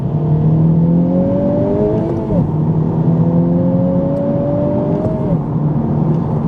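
A Honda Civic Type R FK8 accelerating hard in +R mode, heard from inside: a loud, steady engine drone climbing in pitch through two long gear pulls, with a brief drop at the shift between them.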